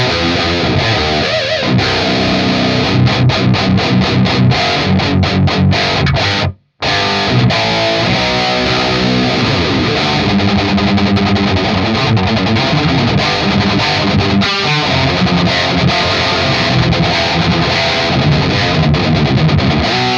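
An electric guitar plays chunky distorted rhythm riffs through a Revv Generator 100P amp, loud and continuous, with one brief cut to silence partway through.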